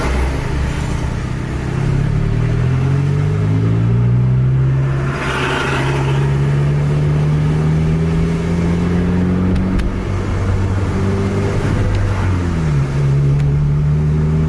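Bus engine held at full throttle while chasing a Scania K410, a loud continuous drone with rising and falling harmonic pitch as gears and revs shift, close and steady throughout with no talk.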